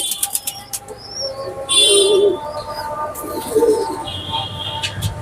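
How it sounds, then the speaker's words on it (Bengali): Pigeons in a loft housing three to four hundred birds make soft, low cooing calls with sharp wing flaps and clatter, plus a few higher chirps. The sounds are close and fairly loud against a busy background. "আমার এখানে কবুতর আছে 300 থেকে 400"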